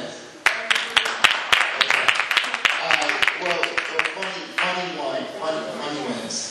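An audience at a poetry show claps in scattered, uneven bursts that swell and fade under a speaker's loud voice, with sharp individual hand claps standing out near the front.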